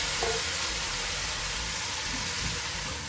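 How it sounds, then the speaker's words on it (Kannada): Peas, carrots, beans and cabbage fry with spices in a pan with a loud, steady sizzle that holds evenly throughout, with no voices. "ಬಟಾಣಿ, ಕ್ಯಾರೆಟ್, ಬೀನ್ಸ್, ಅದ್ರ ಗಡ್ಡೆಕೋಸನ್ನ ಎಲ್ಲ ಸೇರಿಸ್ಕೊತಾ ಇದ್ದೀನಿ"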